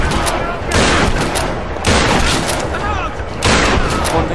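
Shotgun blasts in the Tomb Raider video game, several loud, close booming shots in quick succession with harsh broadband crack and decay between bursts.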